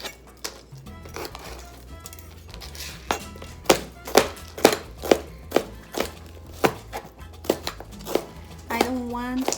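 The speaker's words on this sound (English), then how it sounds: "I will start with the red pepper. So we're just gonna quickly chop." A knife chops red bell pepper on a cutting board for a cold rotini pasta salad, giving a quick run of sharp, close thunks in an uneven rhythm, with a voice talking intermittently underneath.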